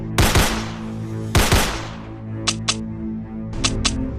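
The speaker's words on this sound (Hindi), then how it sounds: "शॉन उनके ऊपर फायरिंग करने लगता है और गुल्ली भी फौरन अपनी बंदूक से ज़ॉम्बीज को मारने लगता है" Two heavy gunshot blasts ring out close and loud as characters fire guns at zombies in a horror story, each followed by a lingering tail, then several quick sharp clicks.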